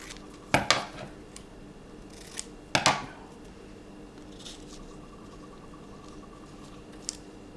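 Scissors snip through second-hand fabric in a few close, crisp cuts, with two quick double snips separated by a pause and faint rustling in between, and no talking.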